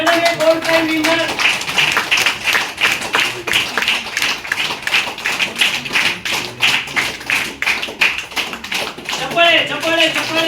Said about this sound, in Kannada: ನಿಮ್ಮೆಲ್ಲರ ಜೋರಾದ ಚಪ್ಪಾಳೆ ಮುಖಾಂತರ ಎರಡನೇ ಗೋಲ್ಡ್ ಕಾಯಿನ್ ವಿನ್ನರ್